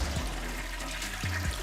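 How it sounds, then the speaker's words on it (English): A toilet flushes, a brief rush of draining water heard faintly and close. "Flushing them turds down"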